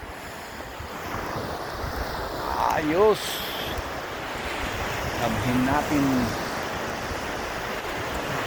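Ocean surf rolls continuously onto a beach in a steady broadband wash, mixed with gusting wind buffeting the microphone, while someone speaks briefly over it.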